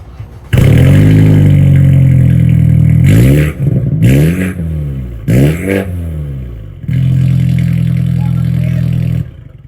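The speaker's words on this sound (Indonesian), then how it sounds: "mengganti knalpot kalian dengan knalpot racing seperti ini" A loud engine fitted with an aftermarket racing exhaust revs hard with a throaty, raspy roar, rising and falling in several bursts with brief pauses between them.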